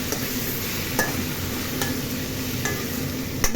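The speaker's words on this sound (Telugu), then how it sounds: "ఈ నూనె వేడితే ఇది ఇలా మగ్గిపోతుంది" Moringa leaves crackle and sizzle in hot oil, a steady close hiss broken by a few sharp clicks of stirring.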